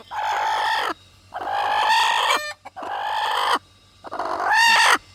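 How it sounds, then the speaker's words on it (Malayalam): Chickens at a coop let out four long, loud crowing and clucking calls with short gaps between them, close by, over a low steady hum. "ഇവിടെ കോഴിയുണ്ട്"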